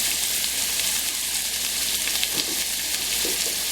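Small pieces of chicken sizzle steadily in a frying pan as they are stirred, a loud continuous hiss with a few soft scraping and shuffling sounds from the stirring.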